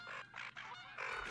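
Canada goose honking in the hunting game theHunter: Call of the Wild, a run of three or four loud, nasal calls close together, heard alone without talk.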